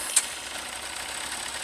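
A 2003 Yamaha Fazer 600 motorcycle on a hot day, no choke, settling into a steady mid-pitched idle after a brief click at the start, close and continuous with no voices.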